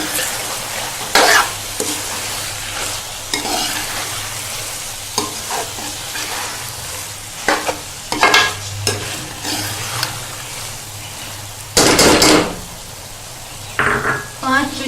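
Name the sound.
mixed vegetables (sabji) being stirred and cooked in pan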